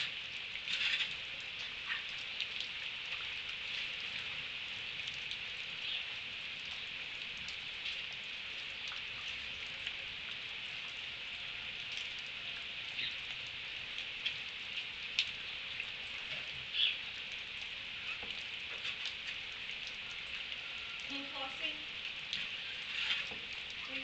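Steady rain patters outside a donkey barn, a constant close hiss with scattered sharper drops and occasional faint knocks throughout, no talking.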